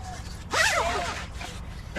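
A zipper on the door of a TC air tent, a Campvil Box 2P, rasps in one quick pull lasting about half a second, close and fairly loud, with quieter scraping afterward.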